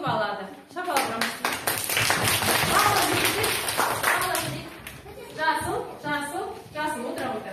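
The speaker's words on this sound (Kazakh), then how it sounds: "Шапалақ құрамыз." Children clapping their hands together in a group, a dense, close run of claps with speech and children's voices around it.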